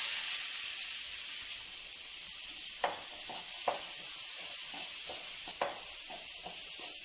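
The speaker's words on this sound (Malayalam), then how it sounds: "ഇനി നമുക്ക് ഉള്ളിയും വെളുത്തുള്ളിയും വഴറ്റിയെടുക്കാം" Soft, steady hiss of finely chopped onion and garlic frying in a pan for prawn chutney powder, with a few faint clicks and scrapes of stirring scattered through.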